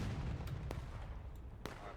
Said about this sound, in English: Their artillery's big.